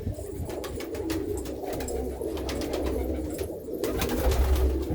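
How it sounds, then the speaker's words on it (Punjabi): Teddy pigeons in a loft coo steadily and close up, a low continuous rumble of overlapping calls with faint rustling and flutters on top and no voices. "ਦੇਖੋ ਹੁਣ ਟੈਡੀ ਕਬੂਤਰ"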